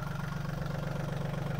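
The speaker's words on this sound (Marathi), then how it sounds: "आता ट्रॅक्टर चालू करण्यात येणार आहे" A tractor engine idles with a low, even throbbing rumble that pulses steadily through a brief stretch.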